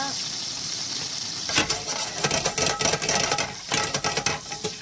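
Sausages frying in a pan, with a steady bright sizzle throughout and clattering stirring and scraping bursts joining after about a second and a half.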